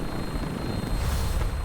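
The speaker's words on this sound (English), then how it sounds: "Look at the chopper!" Helicopter flying in the video game Fallout 4, a loud rumbling rotor wash that throbs steadily throughout, close and without voices.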